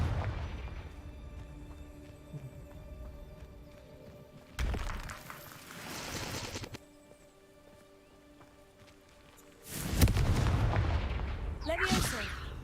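Confringo spell blasts in a wizarding video game: two bursts of crackling, rumbling explosions, the second louder and longer, with a lighter hum and clatter between them.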